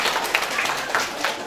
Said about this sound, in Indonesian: Mungkin tepuk tangan dulu untuk yang lagi betulin banner.